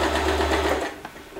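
A W6 Wertarbeit N1615 sewing machine runs a short, loud burst of overlock-style stitching up close, a steady mechanical whir that cuts off abruptly after under a second.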